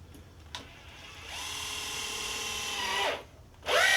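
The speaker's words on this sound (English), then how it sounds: "So there's enough power to sink a 3-inch screw into the wood." A Festool TI15 drill driver in drill mode sinks a 3-inch screw into wood: a rising, strained motor whine that holds for about two seconds, then stops, followed by a brief burst as the drill spins again.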